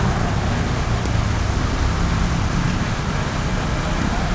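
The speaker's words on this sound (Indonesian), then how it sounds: "Keluar rumah sakit hujan kawan-kawan ya." Steady rain falls outside a hospital, a dense even hiss that fills the whole clip with no break and no talk.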